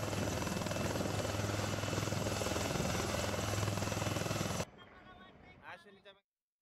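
A rescue helicopter hovering over floodwaters, its rotor throbbing loud and continuous for several seconds before cutting abruptly to a quieter scene with brief voices.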